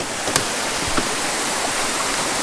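A small creek waterfall pours in a steady, close, full rush of splashing water, with a few faint clicks and no voices.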